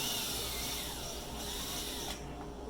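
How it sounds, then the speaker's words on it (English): Power drill boring a small pilot hole into wood, a continuous close whirring hum with a bit grinding through the piece, easing off slightly toward the end. "I really want to use the pilot hole bit. So I'm going to drill a little hole in here."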